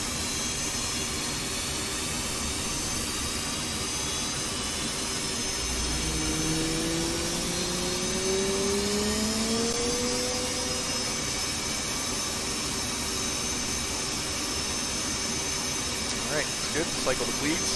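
An F/A-18 Hornet jet engine spooling up in a flight simulator game, a steady whining roar with rising tones sweeping upward midway, continuous and even in level.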